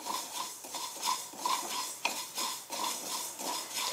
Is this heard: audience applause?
no